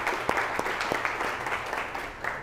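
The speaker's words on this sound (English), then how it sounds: "Can we have a larger applause, louder applause for him?" An audience at an accelerator meet claps steadily, a room full of hands applauding with sharp individual claps standing out, moderately loud and continuous.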